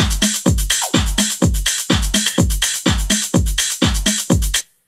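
A rim shot in a house track, played without SSL bus compression, hits in a steady looped pattern of sharp percussive strikes over a full beat, loud and dry, with no talking.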